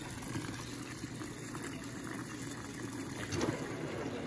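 Water pouring steadily into an Electrolux Blue Touch 12 kg LB12Q washing machine loaded with bath towels, a continuous close rushing and gushing that swells briefly near the end.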